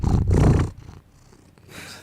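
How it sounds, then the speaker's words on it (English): A female cat purrs close while being held, a loud rumbling pulse for the first three quarters of a second that then fades, returning softly near the end. "You hear her purring?"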